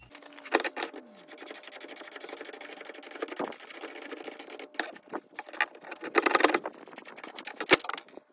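Top shock bolt being tightened during a 6-inch lift kit install on a 2022 Ram truck. A power or impact tool whirs in a steady, rapid buzz with intermittent clicks and clanks, close up.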